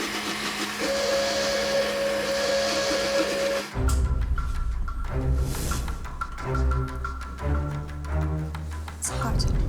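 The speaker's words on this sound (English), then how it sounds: "Can you just help me with the blender?" A kitchen blender whirs for a few seconds with a steady pitch before stopping, then clatter and kitchen noise follow under chatter from contestants in a televised cooking competition.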